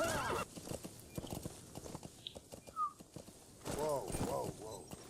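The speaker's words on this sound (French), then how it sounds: "Moi je passe dessous le cheval" A horse in Metal Gear Solid V clip-clops along and gives two loud whinnies, one at the start and one near the end, with someone speaking between them.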